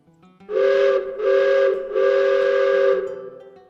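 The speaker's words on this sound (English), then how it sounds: "Eventually y'all hear the train horn." A train horn sound effect sounds three times in a row, loud and steady; the third blast is the longest, and a faint low rumble sits underneath.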